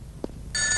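A telephone ring starts midway through, bright and sustained against a low room background with a brief thump just before it.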